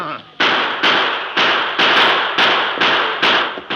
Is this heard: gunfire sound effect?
yes